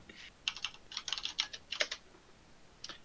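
Computer keyboard typing late at night, quick clusters of light clicking keystrokes in short bursts with pauses, fairly close but quiet.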